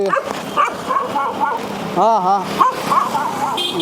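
Dogs in Hyderabad bark, yip and whimper close by in short, wavering bursts, mixed with people talking over them.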